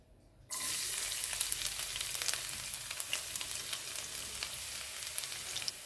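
Garlic drops into hot oil and bursts into an abrupt loud sizzle half a second in, then keeps crackling steadily with small pops, close up and without any voice.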